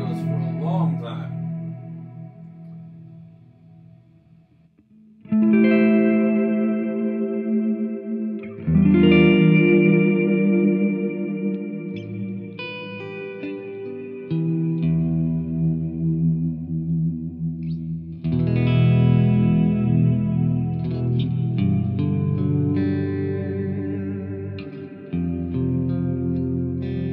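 Electric guitar through a Flamma FS02 reverb pedal on channel 4, a long-decay setting, feeding a Marshall 6100 amp: chords and single notes ring out and wash into lingering tails, loud and close, with no talking.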